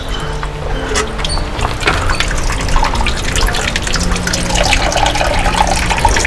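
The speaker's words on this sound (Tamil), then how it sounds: "இதை திறந்து விடுங்கன்னா எப்படி வடிகட்டுதுன்னு வேணால் பார்க்கலாம்" Water rushes out of a valve opened on a filter tank in an organic farm irrigation setup, a steady close gushing and splashing flow that holds throughout with no pause.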